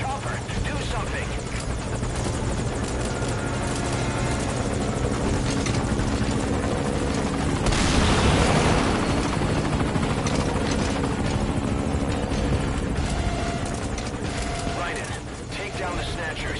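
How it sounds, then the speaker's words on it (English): A helicopter in the video game Metal Gear Solid 5 thunders close and loud with continuous rotor chop, swelling to a peak midway, amid mechanical noise and bursts of gunfire, with voices talking over it. "The chopper! Do something!"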